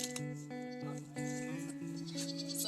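Goats bleat near a garden, with several wavering, drawn-out calls overlapping at moderate loudness against outdoor background noise.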